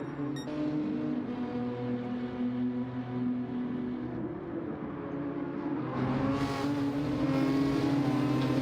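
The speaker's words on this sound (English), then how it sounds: "you only hear that one beautiful sound of the GTR" Nissan GT-R race car engines drone continuously in a racing video game at the Nurburgring GP circuit, a steady loud tone that climbs in pitch near the end as revs rise.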